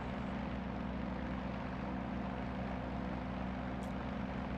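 A Yak-52 propeller plane in the DCS flight simulator drones steadily just after takeoff, a constant low engine and airscrew hum with no speech.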